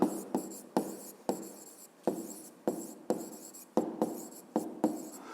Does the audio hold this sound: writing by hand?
yes